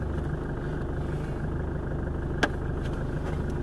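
A car engine runs while the car is being driven, a steady, low, droning hum held close and constant, with one brief faint click partway through and no talking.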